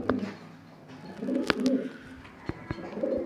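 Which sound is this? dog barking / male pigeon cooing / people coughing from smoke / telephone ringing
male pigeon cooing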